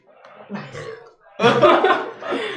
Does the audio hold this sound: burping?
yes